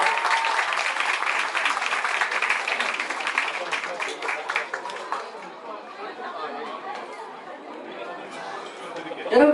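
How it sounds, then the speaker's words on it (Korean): An audience at a Busan International Film Festival event claps in welcome, dense applause mixed with chatter that fades into murmuring, with a voice speaking over it. "큰 박수로 환영의 말씀 부탁드리겠습니다"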